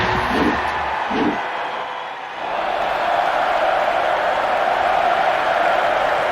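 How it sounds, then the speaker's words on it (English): Crowd applause and cheering in the fighting game Tekken 4 on PS2 after a match win, a steady loud roar of clapping that swells after a short dip and carries on alone. "Thank you for your applause."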